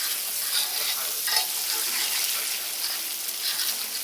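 Chorizo fries in a pan with onions and garlic while being stirred, making a steady, loud sizzle with soft scraping swirls and no speech over it.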